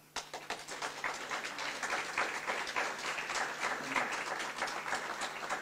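An audience applauds steadily at the opening ceremony of the 37th Gwo ka festival, a dense, even wash of clapping heard from within the crowd for several seconds without pause.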